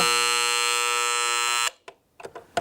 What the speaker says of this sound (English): you've got an audible alarm as well